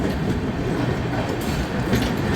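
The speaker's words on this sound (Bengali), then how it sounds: "এক নম্বর প্ল্যাটফর্মে ট্রেন দিয়েছে।" The Akal Takht SF Express stands at platform one of a railway station, with a steady, loud rolling rumble of train wagons and faint clatter throughout.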